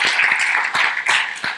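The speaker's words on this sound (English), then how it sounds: "And give him a big applause, please." Applause for a speaker at a technology and innovation conference session in Dubai, a short burst of many hands clapping from a moderately close audience.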